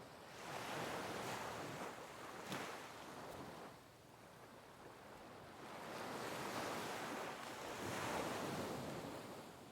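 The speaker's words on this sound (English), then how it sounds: "only the faint sound of the distant sea" Soft, distant surf rolls in slow swells under a breezy hiss, rising and falling gently with no other sounds.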